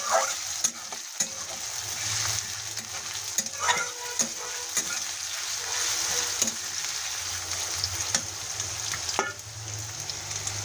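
Chopped onions frying with cinnamon, bay leaf and cumin for a village-style chicken curry, a steady sizzle under repeated scraping and clacking stirs of a spatula against the pan.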